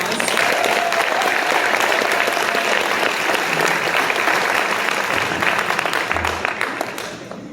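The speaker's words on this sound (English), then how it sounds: "So if we can give Ashley another round of applause" An audience at an aviation breakfast for women aces claps loudly and steadily, and the applause fades toward the end.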